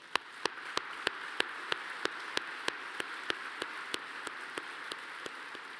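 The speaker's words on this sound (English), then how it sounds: "Please join me in giving them a round of applause." A dinner audience applauds at an award dinner, a steady crisp patter of many hands with regular sharp claps from someone nearby standing out, moderately soft and sustained throughout.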